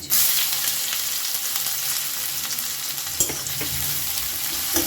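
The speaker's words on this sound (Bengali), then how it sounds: "বেশ সুন্দর করে একটু ভেজে নেব পেঁয়াজটা" Chopped onion frying in a pan for an egg tarka, a steady loud sizzle filling the whole stretch with a few sharp stirring clicks, no voices.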